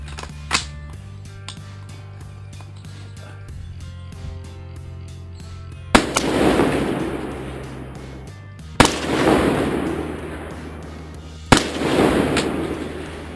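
Rifle shots fire with an EOTech sight on the gun, four sharp loud cracks spaced a few seconds apart, each followed by a rolling echo across an open range, with faint earlier pops at the start.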